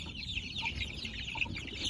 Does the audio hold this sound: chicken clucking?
yes